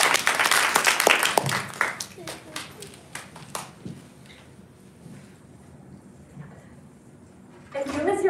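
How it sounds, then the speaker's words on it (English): Audience applause at a class presentation event, a burst of clapping in the opening seconds that thins into scattered claps and quiet, with more noise returning at the end. "Let's give a round of applause."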